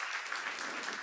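Steady, dense clapping from a church congregation during a sermon seminar, a sustained wash of many hands at even loudness with no break for its full length.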